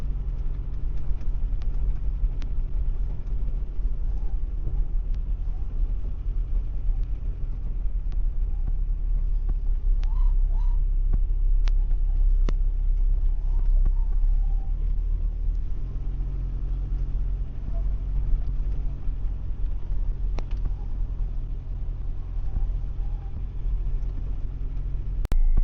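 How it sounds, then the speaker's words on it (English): A tractor drives across a creek on a farm during tillage work, its engine a steady low rumble close by throughout, with faint scattered knocks and no talk. "Crossing the creek again."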